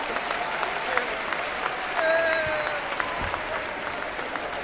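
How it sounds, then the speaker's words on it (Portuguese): A church congregation applauds in a broad, steady wash of clapping that fills the whole stretch, with a brief tonal voice or whistle rising over it midway. "Um aplauso."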